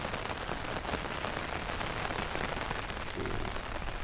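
Heavy rain pours down on flooded farm fields beside the Bhakra canal, a dense, even hiss that holds steady and close throughout without any voices.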